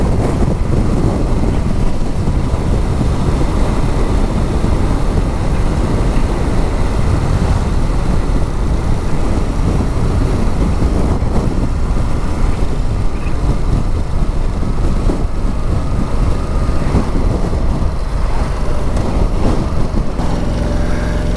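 Strong outdoor wind buffets the microphone in a loud, continuous low rumble that stays unbroken throughout, with no speech heard over it.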